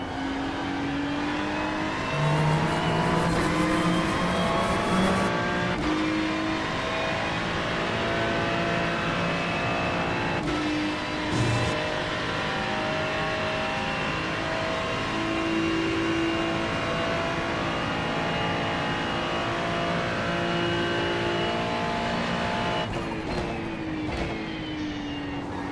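NASCAR race cars on track produce a loud, continuous engine roar for the full stretch. Pitches rise and fall as cars accelerate and sweep past, and no voices are heard.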